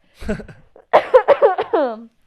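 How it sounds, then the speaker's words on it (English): One close cough followed by a quick run of raspy, wheezy coughs and a drawn-out throaty exhale, fairly loud. "I'm going to cough"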